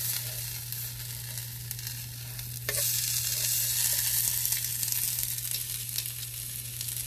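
Birria tacos frying in a pan, a steady loud sizzle and bubble of hot oil that swells after a few seconds, with a low constant hum beneath and no voices.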